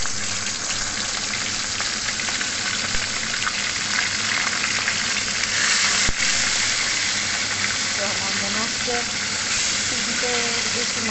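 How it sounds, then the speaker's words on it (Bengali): Pomfret fish frying in hot oil, a steady dense sizzle with bubbling crackle that holds close and loud throughout. "দেখুন আমার মাছটা ভাজা হয়ে গেছে"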